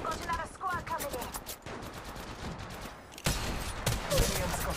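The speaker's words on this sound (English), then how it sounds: "I'm spotted, taking fire." Rapid bursts of gunfire in Apex Legends Mobile: close, loud machine-gun volleys and single shots that repeat quickly in clustered strings, with a voice speaking briefly between them.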